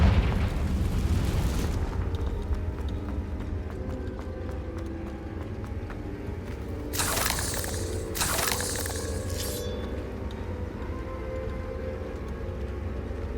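A Confringo blasting spell going off in Hogwarts Legacy, with two sharp bursts close together over a rumbling battle backdrop and low booms, no voices heard.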